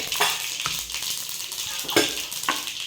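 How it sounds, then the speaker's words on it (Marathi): Mustard seeds and cumin sizzling in hot oil, a soft crackling hiss broken by several sharp popping bursts, fairly close and without talk. "तेल तपलेलं आहे आणि यात आता सर्वात आधी जाणार मोहरी त्याच्यानंतर जिरं"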